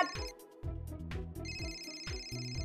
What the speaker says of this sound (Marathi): अहो फोन वाजतोय ना.